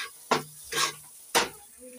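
A snack filling is roasted and stirred with salt in a pan, heard as three distinct scraping, sizzling strokes close up, separated by short pauses.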